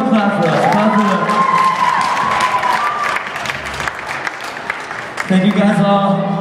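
Audience at a live rock concert in a theater claps and cheers loudly, with whoops and shouts mixed in, while a voice talks over the noise and sustained amplified tones ring underneath.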